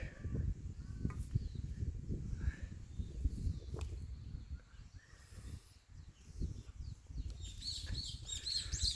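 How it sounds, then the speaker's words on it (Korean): Birds chirping outdoors, faint scattered tweets and calls over quiet background rustle and a few footstep-like knocks, with no talking. "새들 소리가"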